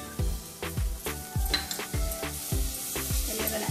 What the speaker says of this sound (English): We are going to fry for 2 minutes